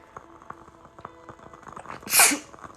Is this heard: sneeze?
yes